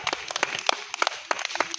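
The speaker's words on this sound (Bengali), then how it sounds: "সবাই হাততালি" A small crowd at a traditional village game claps briefly, with sparse, uneven hand claps close by at moderate volume.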